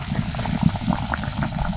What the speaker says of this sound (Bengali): একইভাবে আর একটা চপ তেলের মধ্যে ছেড়ে দিচ্ছি পাশে আরও একটা দিয়ে দিচ্ছি